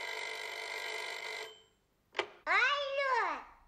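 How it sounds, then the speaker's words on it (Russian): In a radio play, a telephone rings with a steady electronic trill for about a second and a half, then stops; after a short click, a high, wavering cartoonish voice starts chattering. "И тут снова зазвонил телефон."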